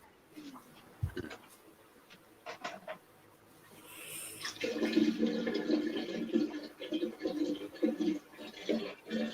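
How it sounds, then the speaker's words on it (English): Water pouring into a 5-gallon jug, a steady rushing fill that starts about midway and continues loud and broad to the end, following quieter indoor rustles and clicks. "Oh, I'm filling my water jug."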